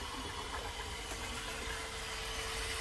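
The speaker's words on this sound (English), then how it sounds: "you're just going to want to paddle mix it" A paddle mixer churns two-part Super Prime primer in a bucket, a continuous loud motor drone with no speech.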